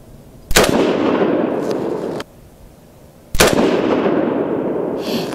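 Two sharp, loud gunshots from an AR10 rifle firing handloaded .308 Win rounds with 155 grain Lapua bullets and CFE 223 powder, each crack followed by a long outdoor echo and rumble, with no talking.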